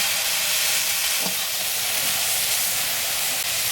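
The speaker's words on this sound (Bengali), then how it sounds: "এবার পেঁয়াজের কাঁচা গন্ধটা যাতে চলে যায় সেইভাবে একটু নাড়াচাড়া করে নেব" Ground onion paste fries loudly in a pan while being stirred, a dense, constant sizzle and hiss with a faint scrape of the spoon.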